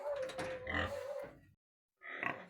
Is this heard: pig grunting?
yes